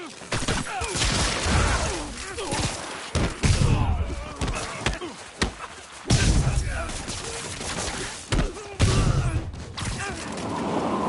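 Gunfire and impact thumps from a Spider-Man game on PS5, a burst of loud shots and slams in repeated bursts amid a scripted street fight, with voices talking over the action.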